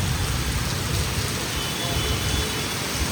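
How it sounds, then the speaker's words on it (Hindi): Heavy monsoon rain falls in Mumbai as a dense, continuous roar that stays loud and even throughout, with no clear breaks. "देख लीजिए बारिश बढ़ती जा रही है।"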